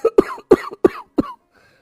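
An old man in a cartoon coughs five times in a quick, raspy series, close and fairly loud, then falls silent.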